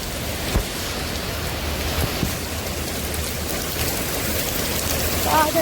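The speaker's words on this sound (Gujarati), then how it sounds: "અહીંયા વરસાદ અને વરસાદ આવે છે બહાર" Heavy rain pours steadily outside as a dense, continuous hiss, with occasional louder drips and splashes nearby.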